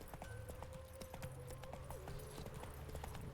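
Roach, Geralt's horse in The Witcher 3: Wild Hunt, trots with steady clip-clop hoofbeats over a continuous ambient bed of wind and game music.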